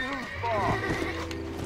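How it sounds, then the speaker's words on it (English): A horse in the Red Dead Redemption video game whinnies loudly up close, a rising and falling neigh with clip-clop hooves, while a person talks over it. "Come here, horse. You are mine."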